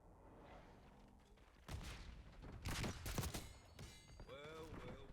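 Video game gunfire from a marksman rifle shooter: bursts of shots and booms rise from about two seconds in, loud and close, with radio-style voices talking over the shooting.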